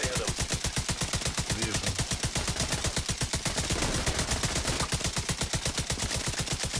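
Rapid automatic gunfire in the video game Tom Clancy's The Division 2 rattles continuously in an even fast rhythm, and someone briefly speaks over it.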